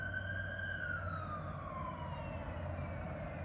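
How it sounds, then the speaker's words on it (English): An ambulance siren passes by at a distance, its wailing tone sliding downward in pitch as it moves away, fairly faint over a low background hum. "got an ambulance going by."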